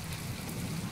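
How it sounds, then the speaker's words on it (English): Heavy rain pours steadily in the video game From The Depths, a dense, even hiss with a low rumble underneath, unbroken for the whole second. "this rain is loud"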